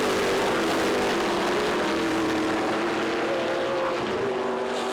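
Trans Am race cars, among them a Chevrolet Camaro, roar past at Portland, a loud continuous engine drone holding steady with a faint pitch sweep as they pass close by, no voices over it.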